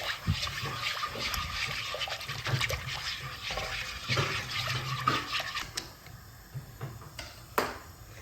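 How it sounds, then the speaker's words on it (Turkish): Milk is poured little by little into a pot while a whisk beats it, a close and fairly quiet swirl of liquid with brisk whisking strokes that fade toward the end. "artık yavaş yavaş sütümü ilave ediyorum"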